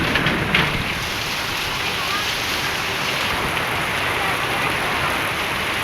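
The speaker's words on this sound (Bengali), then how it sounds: "মানে বজ্র চমকাচ্ছে, কি সাউন্ড, কি আওয়াজ। প্রচণ্ড বৃষ্টি।" Heavy rain pours down steadily in a thunderstorm, a loud dense wash of drops on surfaces with a faint rumble early on and no let-up throughout.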